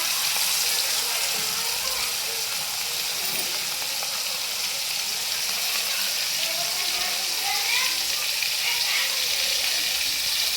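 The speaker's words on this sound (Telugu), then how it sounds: "ఆయిల్ అయితే బాగా హీట్ కాగానే ఇలా ఫిష్లు అయితే ఇందులో వేసుకోవాలి" Fish frying in well-heated oil in a kadai for fish biryani, giving a steady, continuous hiss and sizzle that runs unbroken at close range throughout.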